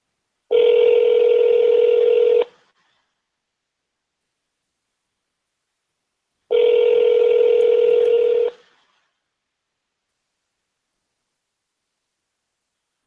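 Phone dialing tone sounding twice as long steady electronic beeps, each about two seconds, loud and close with silence between, and no voices.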